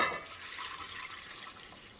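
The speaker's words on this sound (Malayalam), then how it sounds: "അപ്പോൾ 6 ഗ്ലാസ് വെള്ളമാണ് ചേർക്കാൻ വേണ്ടിയിട്ട് പോകുന്നത്" Six glasses of water splash and rush steadily into a pot of wheat flour for halwa, loudest at the start and easing off slightly, with no voices.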